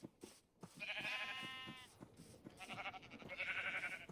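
Sheep in the Minecraft video game bleat in two or three wavering calls, with soft thumping steps between them, fairly close but quiet.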